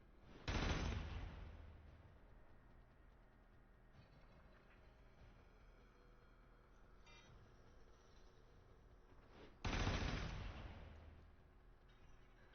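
Gunfire from shooting targets in the video game Warframe: two loud bursts of shots, one near the start and another late on, with a quieter stretch of game ambience between them.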